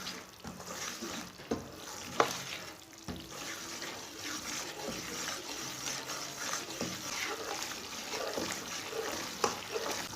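Semolina and gram flour are stirred with a spoon while roasting in a pan over a low flame for egg and besan halwa, giving steady scraping and soft clinks over a faint continuous sizzle.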